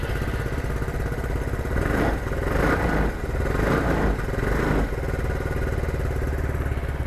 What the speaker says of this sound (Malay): Abang nak start motor ni. Kita dengar dia punya bunyi lah.